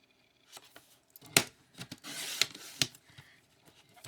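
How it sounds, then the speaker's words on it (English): Card stock is cut to size for a mini file folder in short, close scraping strokes, several separate bursts of rasping, with a few sharp ticks between them. "So I need to cut this one at 5 3/4."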